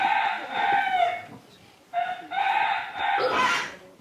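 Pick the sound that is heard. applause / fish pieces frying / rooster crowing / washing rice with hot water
rooster crowing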